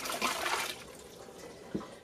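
Dirty oil lamp glass globes being washed by hand in water, a brief close splashing and sloshing with a soft swish and a small knock near the end.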